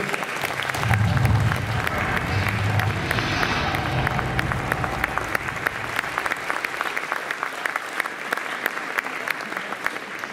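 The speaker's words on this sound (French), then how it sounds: "je vous invite à les applaudir" An audience at the Utopiales 2018 science-fiction festival prize ceremony applauds the award winners: sustained, close crowd clapping that swells early, then settles into a slightly thinner, even patter through to the end.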